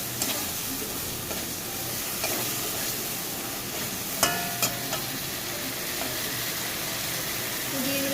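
Boiled potatoes tossed into hot spiced oil, sizzling steadily with occasional scraping stirs of a spoon in the pan, close and continuous, no talking.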